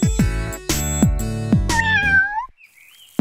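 A cartoon kitten in a children's bedtime story gives several short, loud, close meows in quick succession, then a longer drawn-out wavering mew that fades into a faint trailing squeak, with no talking.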